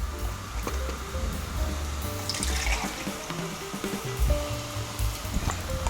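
Worcestershire sauce pours into a homemade barbecue sauce, a close, continuous liquid gurgle and splashing with some clinks of a container throughout.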